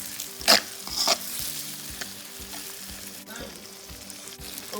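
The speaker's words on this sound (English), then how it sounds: "So we're going to fry this until the tomatoes also are weak." Tomatoes fry in a pan for a Gambian-style egg breakfast, with a continuous close sizzle, a few sharp scraping stirs near the start and a low background hum, no voices.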